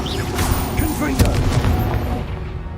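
A Confringo fire spell explodes during combat in the video game Hogwarts Legacy, giving a deep booming blast inside a dense, continuous rumble of battle noise, with a voice briefly audible in the mix.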